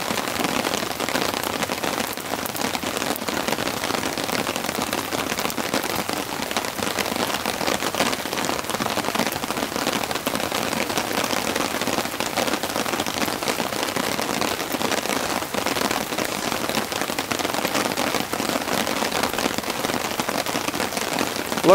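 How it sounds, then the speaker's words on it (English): Heavy, steady rain pours down on a campsite with a tent and campfire, a dense continuous hiss of drops drumming on surfaces that holds at an even loudness throughout. "Bucketing down this thick, heavy, consistent rain."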